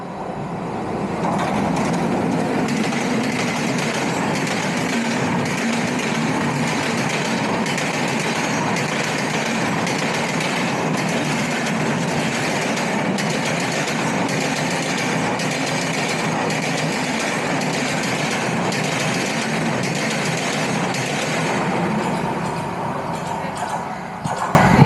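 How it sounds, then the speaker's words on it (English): A train pulls into Majorda railway station in Goa, producing a continuous rumbling, clattering roar that holds steady throughout before a brief louder knock at the very end. "there's a train coming in."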